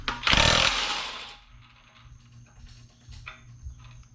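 Impact wrench removing a camshaft bolt on a Toyota 1JZGTE engine, a loud burst of hammering about a second long, then fading to quieter mechanical clicks and workshop noise.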